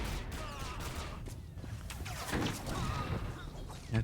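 Repeated explosions and blaster fire in SWTOR Commando combat, a busy, fairly steady barrage of bangs and crackles with a heavier burst near the end.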